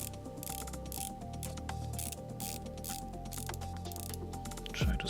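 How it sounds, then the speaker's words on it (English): A ceramic watch bezel on a LIGE 6801 is rotated, giving a dense run of fine, quiet ratcheting clicks that continues steadily throughout. "Now let's check the bezel action."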